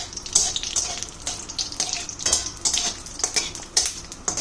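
Ghee with dried red chillies, bay leaves, a cinnamon stick and cardamom pods frying in a pan for gandharaj chicken, a steady close crackle with repeated light clinks of a utensil against the pan.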